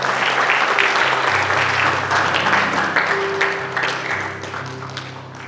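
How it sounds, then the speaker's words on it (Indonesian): A church congregation claps together in loud, sustained applause that fills the room, then gradually fades toward the end while music plays beneath it. "Berikan tepuk tangan buat Tuhan."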